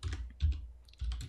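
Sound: typing on a computer keyboard

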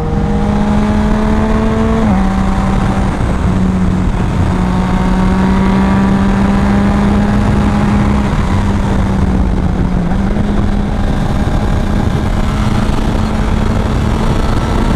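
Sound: Kawasaki ZX6R motorcycle engine revving while riding

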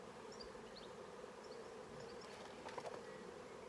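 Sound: bees buzzing in beehive

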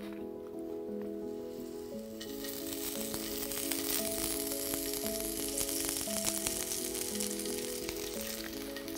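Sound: garlic frying in olive oil

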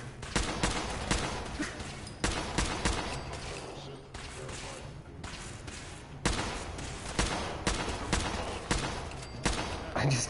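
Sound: gunshots from the video game Fallout 4

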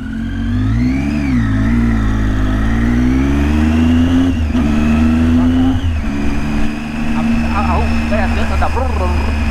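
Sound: motorcycle riding

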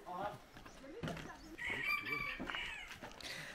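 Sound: chickens clucking by a riverside camp

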